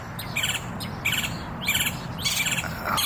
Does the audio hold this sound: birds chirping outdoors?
yes